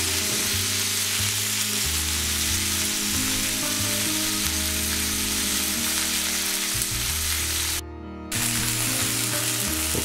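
Steady, loud sizzling of rolled beef roulades frying in hot fat, continuous throughout with a brief dip near the end; no talking.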